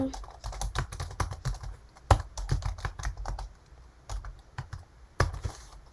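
Someone types on a computer keyboard up close, tapping out quick irregular bursts of crisp clicks with a few heavier key strikes mixed in.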